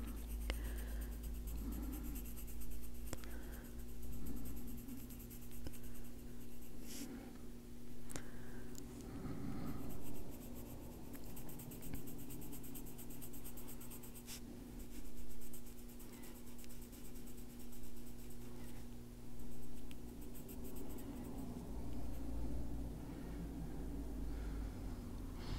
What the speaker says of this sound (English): Still using the soft pressure on the side of the pencil.